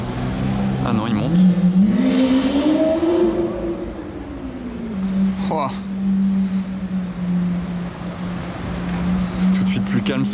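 A V12 car engine in Monaco revving and accelerating, its pitch sweeping up and back down before settling into a loud steady drone nearby, with people talking over it.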